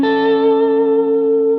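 An electric guitar with effects rings out one sustained, distorted note that holds steady and fades slightly, with a single tone sounding alone.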